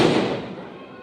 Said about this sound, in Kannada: ಹೆಂಗೆ ಪಟಾಕಿ ಎಗರ್ಸಕತ್ತಾರ ಒಂದು ಸೌಂಡ್ ಫುಲ್ಲ ಎಕ್ದಮ್ ದಮ್ ಧೂಮ್